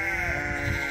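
A sheep gives one sustained, nasal bleat close by, loud and continuous for about a second, with no other voices.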